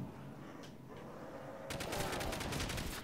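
Halo 3 weapon fired in a custom zombie map in a video game: a faint, rapid burst of automatic gunfire that starts partway through and continues to the end.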